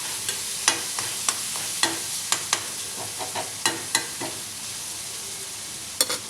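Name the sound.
garlic sautéing in a pan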